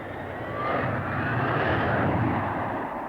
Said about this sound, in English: The Harrier utilizes the enormous thrust of its Rolls-Royce engine, diverted through 4 controllable nozzles to move in any direction the pilot desires